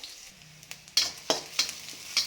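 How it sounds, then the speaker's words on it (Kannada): Chopped onions fry in a pan for egg rice, a low sizzle underneath several distinct scraping stirs from a spatula, each stroke close and fairly loud. "ಚೆನ್ನಾಗಿ ಫ್ರೈ ಮಾಡ್ಕೊಬೇಕು, ಈ ರೀತಿ ಕೈ ಆಡಿಸ್ಕೊಂಡು."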